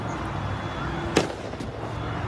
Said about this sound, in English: You've got fireworks going off.